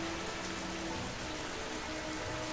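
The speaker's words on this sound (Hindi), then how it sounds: "इतनी जोरदार बारिश और ओहो, इतनी तेज हवाएं।" A dense, steady downpour roars continuously, with rain pounding surfaces close by, strong winds, and a faint musical tone drifting beneath.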